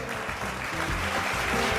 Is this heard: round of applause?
yes